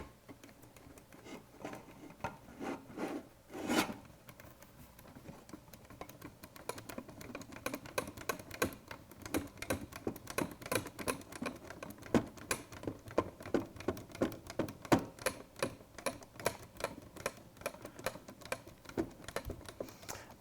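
Nuts are screwed onto the bolts of an intake base assembly, a long run of quiet, rapid metallic ticks and clicks, close and faint, patchy at first and then dense and steady.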